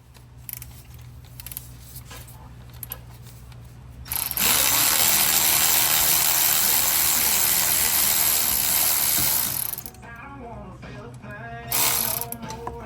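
Mechanic working to remove the AC compressor from a 1998 Honda Civic EX, with a loud continuous whirring of a power tool for about six seconds, preceded and followed by metallic clicks and handling noise.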